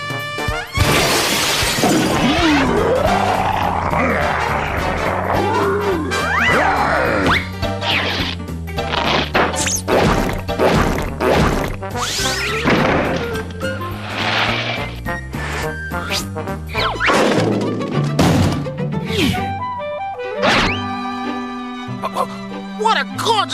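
Cartoon brick smashing and whacking effects, a loud shattering crash followed by a dense run of hits, thuds and musical stings with barks and character voices throughout.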